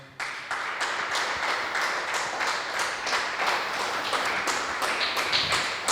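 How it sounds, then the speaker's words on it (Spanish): A church congregation applauds during a service, a sustained burst of many hands clapping together in a loose, steady rhythm that stays full and close for several seconds. "Un aplauso al Señor."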